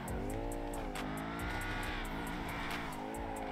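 An Audi RS6 in GTA 5 roars under steady, loud engine drone while its all-wheel-drive tires squeal and slip for lack of grip, revs rising and falling throughout.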